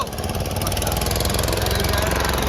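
A boat engine runs steadily on the Narmada river near Omkareshwar, a loud close mechanical drone with a fast pulsing throb and no speech over it.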